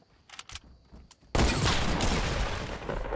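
A sudden loud shotgun blast in a Fortnite match, followed by a sustained burst of gunfire, after a quiet stretch of scattered faint clicks and thumps.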